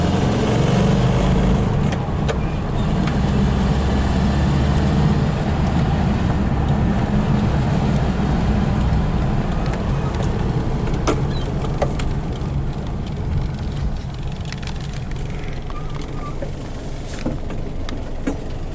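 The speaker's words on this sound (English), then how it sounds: "Egyenletes a motor. I like the sound of it too." A VW Type 3 running smoothly on a test drive around Melbourne's Grand Prix circuit, heard from inside the car as a continuous low engine drone with road rumble, steady throughout.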